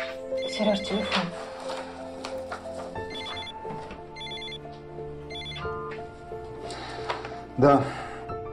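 Repeated bursts of a home telephone ringing in a Russian drama scene, recurring steadily over background music with a louder knock near the end.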